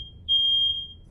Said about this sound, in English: Yeah, that's the fire alarm.